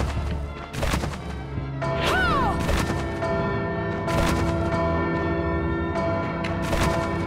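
A bell is struck over and over in the video game Bloodstained: Ritual of the Night, sharp metallic clangs with ringing tones that decay between hits, set over game music and effects.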